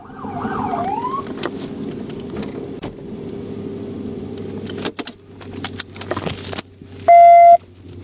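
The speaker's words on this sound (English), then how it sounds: "Kill your siren." A police car siren sounds during a motorcycle chase, with a wailing sweep at the start, then road and cabin noise, sharp knocks, and a loud, brief siren blast near the end.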